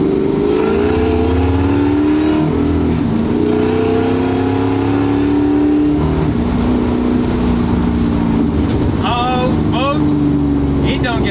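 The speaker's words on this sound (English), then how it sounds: "I'm in a supercharged Chevy Malibu." Heard from inside the car, a supercharged LT4 engine in a 1965 Chevrolet Malibu SS drones loud and continuous, its tone climbing and dropping as it accelerates through the gears.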